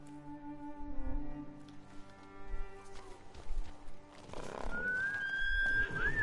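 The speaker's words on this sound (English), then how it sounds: "Conveniently, there's a horse here." A horse in Ghost of Tsushima with a blizzard approaching, its faint hoof clops and a high whinny-like cry rising late, set against a low wind and music bed.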